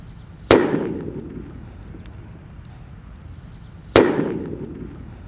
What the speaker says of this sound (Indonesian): Sudah menyala mercon petir.